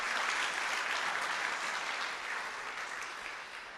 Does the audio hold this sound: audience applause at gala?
yes